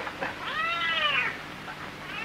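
A cat in a 1936 Japanese film gives a clear, drawn-out meow over a steady hiss of old soundtrack noise.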